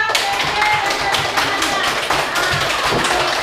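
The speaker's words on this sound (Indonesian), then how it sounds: "Tepuk tangan untuk kelompok ya" A classroom group claps together for a student group, a brisk, close run of many overlapping hand claps at a steady rhythm with no pause.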